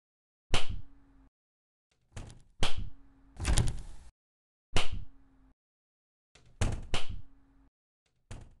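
Doors in the Baldi's Basics schoolhouse video game make about half a dozen sharp clunks and thuds one after another, separated by short silences, with no voices.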